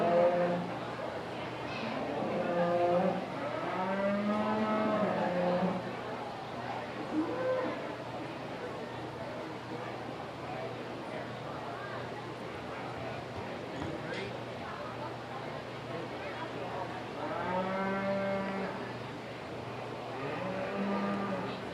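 Large steers moo in a few drawn-out calls at the Pierce County Fair beef show, under an announcer talking over a steady arena background.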